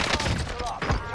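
Gunfire in the online shooter Warzone Pacific, a few quick sharp bursts with thumping low impacts under a loud busy game mix.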